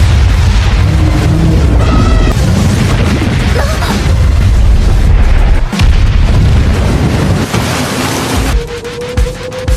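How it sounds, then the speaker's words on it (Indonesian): A loud, sustained explosive roar as an anime kaiju monster blows up after being stabbed with a sword, rumbling booms and crashing debris filling the whole stretch, ending in a thin ringing tone. "Seketika monster kaiju meledak setelah tertusuk pedang Kapten Narumi"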